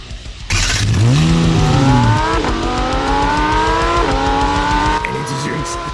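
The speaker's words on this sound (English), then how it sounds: "Let's use Trump's sports car." A sports car engine revs hard and loud, climbing in pitch with repeated rising surges and brief gear shifts, rendered as a close, continuous game-style sound effect with no talking.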